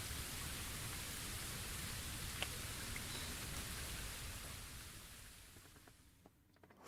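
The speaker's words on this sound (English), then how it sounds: "Looks like the rain has stopped." Steady rain falls in the video game Bleach Rebirth of Souls, a dense even hiss with scattered drops, fading toward the end as the shower stops.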